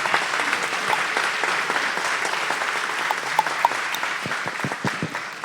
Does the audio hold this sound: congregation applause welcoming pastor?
yes